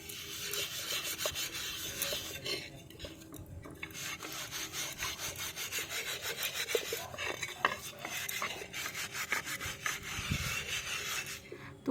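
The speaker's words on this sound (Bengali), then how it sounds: "একটু এই কড়া মাছের জালি দিয়ে একটু ঘষা দিলেই সকল নোংরা উঠে" Scraping and scrubbing of a blackened iron tawa with a coarse fish-net scrubber, a steady rasping rub repeated in quick strokes, close and fairly quiet, with no one talking.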